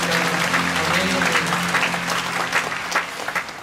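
A church congregation applauds together at a Friday night worship service, a dense, steady wash of many hands clapping at close range, with a low sustained tone running beneath it.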